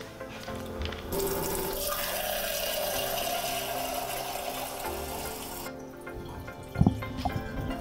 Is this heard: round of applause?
no